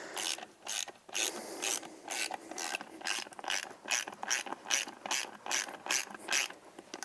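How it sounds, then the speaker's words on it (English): A ratchet wrench torques bolts on a beadlock wheel ring, giving a close, quick series of clicking bursts in a steady rhythm that repeat through the whole stretch, with no voices. "You're just torquing these bolts down."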